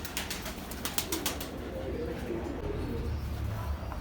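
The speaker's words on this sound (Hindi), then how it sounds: "ये इनके कबूतर हैं" Pigeons kept by a fancier coo in low repeated murmurs in their loft, with scattered sharp clicks and rustles, close by and fairly clear.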